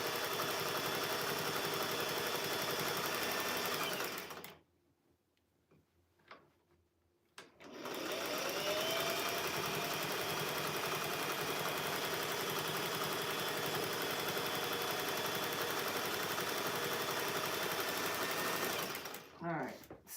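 A sewing machine stitches flannel squares and batting for a rag quilt at lowered thread tension, whirring loudly and steadily, stopping for a few seconds with soft handling clicks, then resuming its fast hum; someone talks over it.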